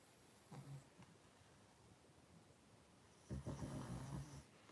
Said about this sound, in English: that pug snoring sounds a little bit like a red alarm